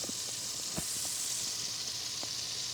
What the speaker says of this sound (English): We're gonna put 2 of the tablespoons of butter. And we're gonna get it nice and melty.